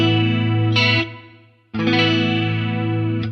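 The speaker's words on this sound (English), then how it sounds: "I put a plate reverb on here" A distorted guitar run through chorus and plate reverb on a Line 6 rig plays two loud, sustained chords, each with a bright pick attack, separated by a short decaying gap.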